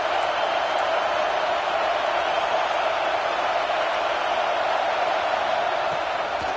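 A football stadium crowd at an NCAA college game roars in a steady, loud, unbroken wash of cheering that holds for several seconds, with no distinct voices standing out.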